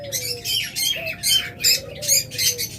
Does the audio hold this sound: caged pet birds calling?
yes